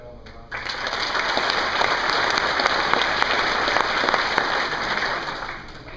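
Steady, full audience applause fills a ceremony hall for several seconds, dense clapping from a crowd.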